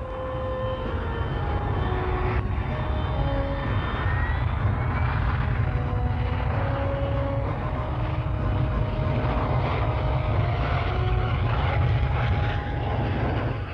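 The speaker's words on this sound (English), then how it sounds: "With nozzles turned downwards, the aircraft hovers on its own jet thrust." An RAF Harrier jump jet hovers on downward-turned jet nozzles, giving a continuous, loud, dense engine roar with a steady whine, unbroken for the whole stretch.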